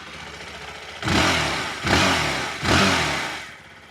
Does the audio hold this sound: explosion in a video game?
no